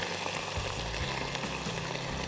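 Pork and onions frying over maximum heat for pilaf, a steady dense sizzle with crackling throughout, close and continuous with no talking.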